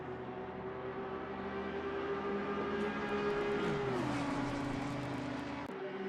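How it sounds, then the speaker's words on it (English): Team VSR's number 96 Ferrari race car rolls down the pit lane at Imola, its engine note holding a steady hum before dropping lower midway, close and continuous with no talk. "Team VSR's number 96 Ferrari into the pit lane, rolling down towards his pit box at this time"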